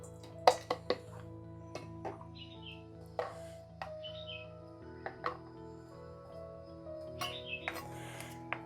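Vegetables for veg manchurian being finely chopped by hand with a knife: a few sharp, scattered taps on a board, fairly close, over steady background music.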